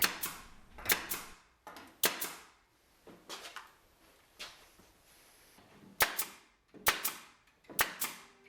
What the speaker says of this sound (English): And who doesn't like a nail gun?